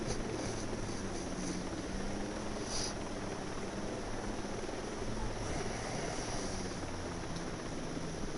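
A helicopter hovers or flies nearby during a skydiving exercise, its engine and rotor making a steady, droning whir throughout with a faint rhythmic thump underneath and no talk.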